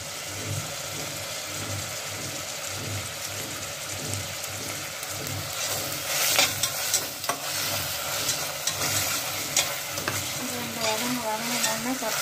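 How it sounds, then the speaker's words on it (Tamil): Tomatoes go into a pan of sautéed onions with spices for rice dal masala kichadi, and a steady sizzle follows with spoon scrapes and stirring knocks growing busier in the second half, over a low rhythmic hum. "இப்போ வெங்காயம் வதங்கின உடனே இந்த தக்காளி போட்டுவிடுங்க."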